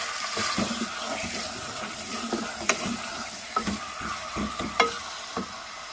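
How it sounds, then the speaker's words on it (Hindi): Boneless chicken fries in a pan for a spinach chicken curry, a steady close sizzle with scraping and stirring clatter from a utensil throughout, no voices. "अब इसे हम 4 से 5 मिनट तक भूनते हैं।"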